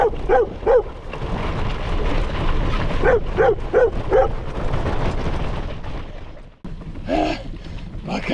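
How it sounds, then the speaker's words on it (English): A dog barks sharply in short bursts close to a cyclist on a hilly gravel race in Helen, Georgia, with two quick yaps, then a rapid string of barks over wind and riding noise, and a final yelp. "That was definitely a dog that destroys any sort of pacing and stable heart rate"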